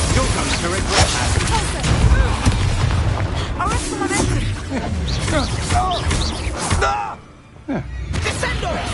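Confringo explosion spells cast repeatedly in Hogwarts Legacy, dense booming blasts and magical bursts layered under busy game music and effects, with a brief lull near the end before the clamor resumes.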